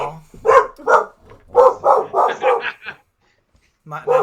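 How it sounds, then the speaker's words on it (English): A pet dog barks in a series of sharp, fairly close yaps and woofs indoors, several quick bursts with a short pause before more barking, while a person speaks softly at times. "Now my dog's barking."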